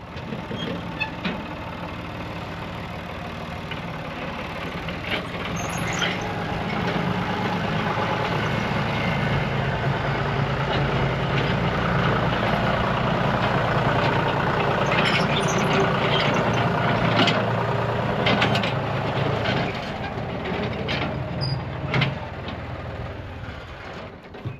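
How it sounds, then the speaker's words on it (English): A farm tractor drives slowly into a machine shed, its steady diesel engine droning loud and close throughout with a constant low rumble and no talk. "I'm gonna pull the tractor in and kind of see what it looks like with the tractor in"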